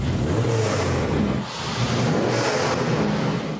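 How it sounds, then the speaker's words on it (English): Budget supercar engine revving hard and continuously at close range, with a brief dip in the roar before it surges again, loud throughout. "First to start their engine."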